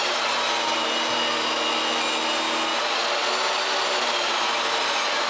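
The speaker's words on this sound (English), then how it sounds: "rip the 24-inch piece and the 27-inch piece in half" A table saw rips pieces of old skis and wood in half, a loud, steady whine with a brief dip in the motor tone early on, close and continuous with no talking.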